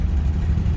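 A 1986 Chevrolet Caprice Brougham engine running as the car moves, a close, steady low rumble heard alone.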